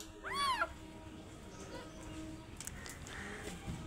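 A small stray kitten gives one clear, rising-and-falling meow close by near the start, followed by quieter outdoor background noise with faint voices.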